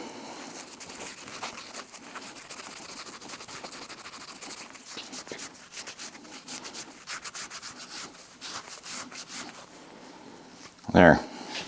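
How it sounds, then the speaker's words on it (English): Abrasive rubbing of a Scotch-Brite pad across a stainless steel exhaust pipe, a steady close scratchy scrub running throughout, with a sharper louder burst near the end. "when I'm done with the belt sander, grab a piece of Scotch-Brite."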